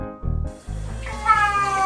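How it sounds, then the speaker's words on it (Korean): A cat meows loudly in a crying, pleading tone as it tries to get out, giving three drawn-out wails in a row, with the last one rising and holding longest. "하지만 루벤처럼 나갈래라고 우는 고양이는 없었다."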